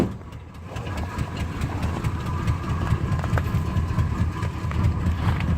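A boxy Chevrolet Caprice engine idles after a cold start in below-freezing weather, a steady, close, fairly loud low rumble with a slightly uneven knocking pulse and no voices.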